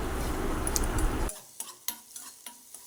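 Chopped spinach tossed into a hot pan with cumin and briefly wilted, first a loud dense sizzle that cuts off abruptly, then quieter intermittent scraping and stirring clicks from a spoon against the pan.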